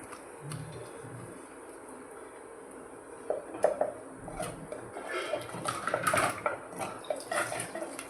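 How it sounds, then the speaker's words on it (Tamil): Water splashes and gushes into a pan, mixed with intermittent clatter of cookware that grows busier toward the end. "நல்லா தண்ணி ஊற்றி"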